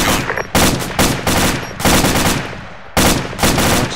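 Loud, dense automatic gunfire in an Arma tactical military game, with several sustained bursts that overlap and echo, heard close and without voices.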